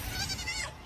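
A single short sheep bleat from the Palworld video game, close and fairly loud, lasting under a second.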